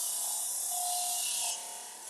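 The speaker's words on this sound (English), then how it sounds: "Just a little mini wheel sander." Small mini wheel sander buzzing against a wood edge to strip hard edge dressing, a steady close rasping hiss that drops slightly in level near the end.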